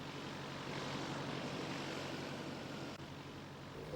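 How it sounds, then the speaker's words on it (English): A Piper L4B light propeller plane flies at an air pageant, its engine a steady broadband drone held at an even level throughout, fairly distant and with no voices over it. "It's a Piper L4B."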